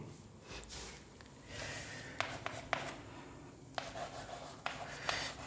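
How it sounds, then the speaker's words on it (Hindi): Chalk or marker writes a line on a classroom board, giving soft scratchy strokes and a few sharp taps in irregular bursts, faint and close with no talking. "तो आइए पहले एक लाइन लिखते हैं और फिर देखते हैं"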